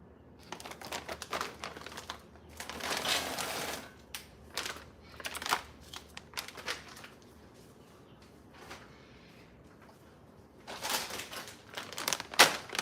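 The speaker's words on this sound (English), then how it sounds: "We're gonna cut open 2 bags of string beans." Plastic bags of string beans being cut and pulled open in a home kitchen, heard as bursts of crinkling and rustling with pauses between, fairly quiet and with no talk.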